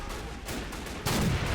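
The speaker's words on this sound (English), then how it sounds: "This is also a beautiful view of just the battery firing in the distance." Artillery battery firing in the distance in a war video game set in a fictional 1912 American invasion of Canada, with muffled booms followed by a louder, sharper burst near the end over a low rumbling backdrop.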